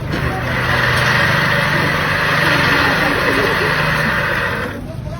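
A modified bicycle rigged as a semi-manual spinner for coconut fiber rope turns with a steady mechanical whir and rattling hum, loud and close, running continuously before tapering off at the end.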